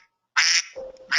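A cartoonish duck quack sound effect plays at a live tech talk show, two loud bursts separated by a brief quieter squawk, with nothing else heard.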